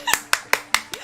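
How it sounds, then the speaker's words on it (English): A few hand claps, five sharp evenly spaced slaps close to the microphone, with a voice murmuring between them. "We'll give it applause"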